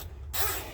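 Short burst of ratchet clicking while tiny 5.5 mm bolts are backed out of a headlight lens on an '87 Chevy S10, a steady close mechanical buzz that starts after a brief quiet moment.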